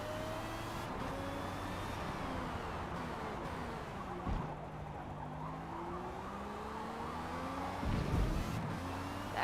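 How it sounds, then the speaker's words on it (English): A race car trail brakes into a corner in Forza Motorsport 7, its engine note sliding down through gears with rising and falling pitch sweeps, steady and fairly close under a low rumble of tire noise. "That was some decent trail braking."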